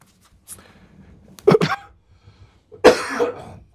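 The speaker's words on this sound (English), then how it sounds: "I've had this cough for forever." Two distinct, close coughs a little over a second apart, each a harsh burst in an otherwise quiet room, preceded by a faint click.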